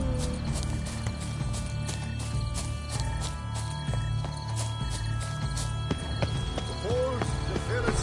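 A horse galloping in The Witcher 3, with steady rhythmic clip-clop hoofbeats close by, a whinny near the end and some game sounds layered over it.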